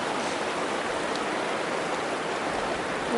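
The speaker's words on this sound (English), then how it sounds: "And another decent stream crossing." A mountain stream at a trail crossing on the Pacific Crest Trail rushes steadily and close by, a dense, even wash of flowing water with no voices.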